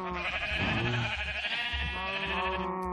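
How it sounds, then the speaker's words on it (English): Sheep bleating continuously in the Minecraft video game, a loud, wavering, nasal cry that runs unbroken for about three seconds, with several overlapping bleats blending together. "Somebody made a disc of sheep."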